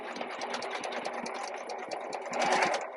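A sewing machine runs steadily, stitching a fabric seam up to the top edge in one continuous whirring burst that picks up slightly near the end, close and clear with no talking.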